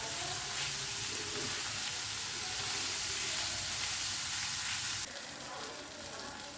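Khoira fish frying in a pan, a loud, dense, continuous sizzle close up that drops slightly in level near the end, with no talk over it.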